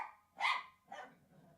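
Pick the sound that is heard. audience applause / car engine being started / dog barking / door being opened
dog barking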